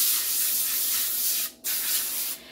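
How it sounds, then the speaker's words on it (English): Nonstick coconut oil cooking spray hissing into a foil-lined pan while making fudge, two close, steady bursts separated by a brief pause, alone without talk. "I'm just going to use a nonstick coconut oil"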